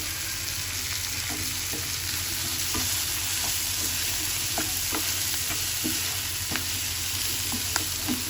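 A spoon stirring vegetables in a pan on a stove, steady soft sizzling throughout with regular scraping and clinking strokes, close and moderately loud, with no voices.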